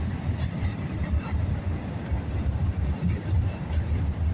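A northbound CSX mixed freight train rolls past close by with loud, continuous rumbling and rhythmic clickety-clack from wagons including boxcars and telephone-pole loads.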